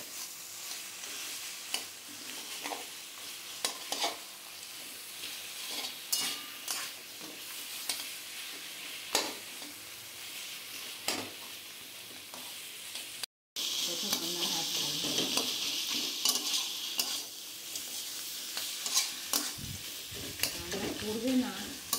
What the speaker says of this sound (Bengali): মাছের মাথাটা দিয়ে এখন এই মশলাটার সাথে একটু কষে নেব